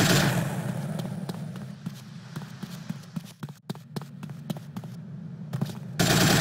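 Rapid gunfire in GTA Vice City Stories, a string of sharp repeated shots in uneven bursts over a steady low game background, with a brief pause before the sound returns loudly at the end.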